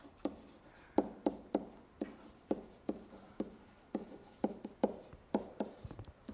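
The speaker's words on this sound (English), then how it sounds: "I'll write this out." A pen or marker writing out math notes on a surface, heard as a series of sharp, evenly spaced strokes and taps, close and fairly quiet, with no talking.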